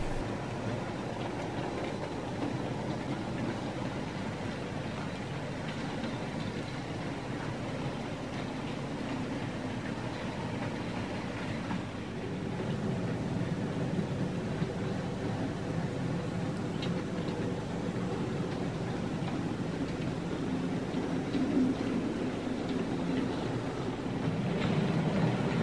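A Hornby BR-liveried Terrier model locomotive runs steadily on its track, a faint continuous motor whir and light rolling rumble with no talk.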